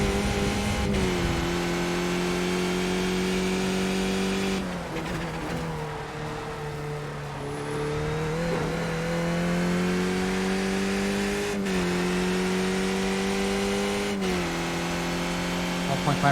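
Race car engines in a racing video game roar steadily and loud, pitch dipping and climbing through gear changes and braking, with a few sharp clicks mixed in.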